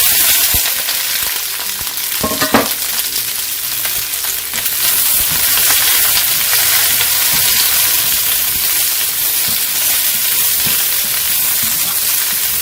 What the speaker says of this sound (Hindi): हमारा ऑयल अच्छी तरह से हीट अप हो गया है। अब हम ये सारी वेजीज इसके अंदर